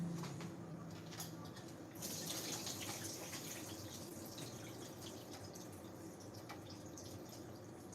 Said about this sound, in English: Let me drain my noodles.